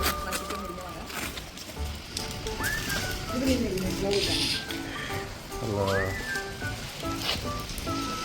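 Steady rain pattering on surfaces around a home, a constant wash of drops throughout, with a few bird calls and people talking over it.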